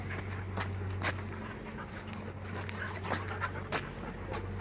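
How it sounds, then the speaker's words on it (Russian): Six puppies pant steadily and rapidly close by, with scattered paw scuffs and brief yelps over a constant low hum throughout. "Смотрите, эти 6 щенков."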